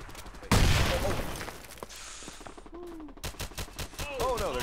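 Gunfire rips through a Bullet Run shooter match: a loud burst of rapid shots opens the clip, then sharper intermittent bursts follow, mixed with other game sounds and a voice talking.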